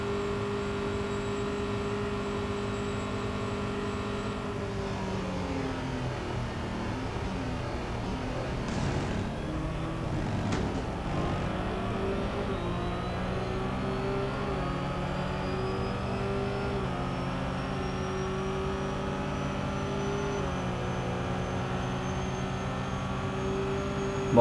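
BMW 3.0 CSL race car engine in Real Racing 3, a steady droning whine that drops and climbs through gear changes and revs mid-lap, loud and continuous with no talking.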